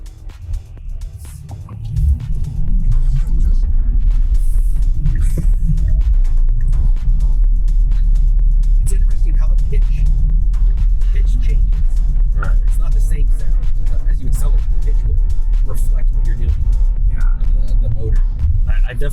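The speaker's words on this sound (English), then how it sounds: "definitely love the motor sound" An electric Tesla Cybertruck with four-wheel steering, driving and turning, gives a low throbbing motor hum and road rumble that swell after a quiet start and then hold steady, with people talking over it.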